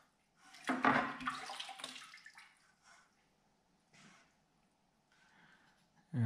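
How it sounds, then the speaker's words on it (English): Soapy aluminum parts fresh from a vibratory tumbler being rinsed by hand in a bucket of water, giving a short burst of sloshing and splashing early on, then quieter drips and faint water movement. "I brought a bucket for rinsing parts because I had a feeling they would be kind of dirty."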